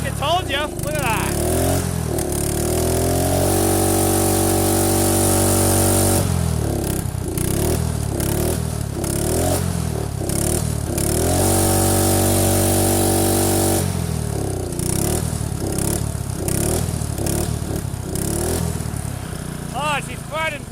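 An old carbureted engine idles steadily after a cold start in winter, a loud, continuous running drone with a few brief throttle blips and clattery surges partway through, close to the listener.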